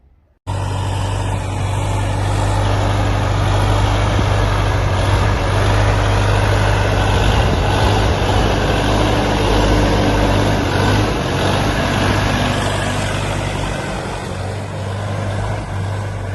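A DTZ 5404 tractor with cab and four-wheel drive idles steadily nearby, a low rumbling drone that holds constant throughout with no voices.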